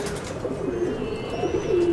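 Pure Malwai pigeons coo in a loft, soft repeated low coos over a steady ambient hum, close by and continuous.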